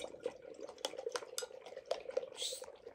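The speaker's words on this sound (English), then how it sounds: "let me give it another stir" A dry ice mixture bubbling in a container is stirred, producing faint, close liquid sloshing with light clinks and taps against the container.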